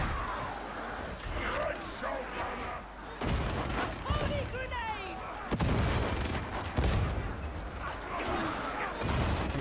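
Gunners firing in the video game Warhammer 40,000: Darktide, dense overlapping gunfire and impacts throughout, with a player talking over the chaotic battle noise.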